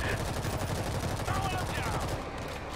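Rapid machine gun fire in a zombie video game, a fast continuous stream of shots at steady volume with voices talking over it.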